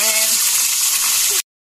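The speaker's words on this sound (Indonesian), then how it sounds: "Lanjut kita goreng guys" Catfish frying in hot oil outdoors, a steady loud sizzle and crackle filling the whole stretch before it cuts off abruptly.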